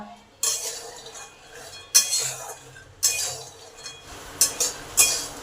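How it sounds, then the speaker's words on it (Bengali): Peanuts stirred in a hot pan while dry roasting over medium heat for jaggery peanut laddu, with four bursts of rattling, scraping clinks from the spoon and nuts against metal, each followed by a quieter shuffle. "এটাকে কন্টিনিউ নেড়ে যেতে হবে।"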